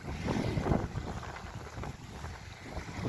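Steady wind gusting across an open microphone on a beach at Burry Port, South Wales, a loud, continuous rush with low rumbling buffets throughout.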